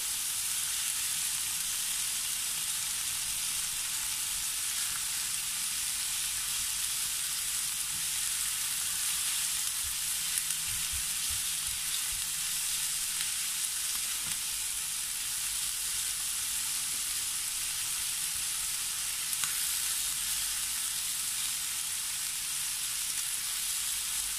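Chicken pieces for a saucy Filipino afritada brown in a frying pan with a constant, even sizzle, broad and unbroken throughout, no voices.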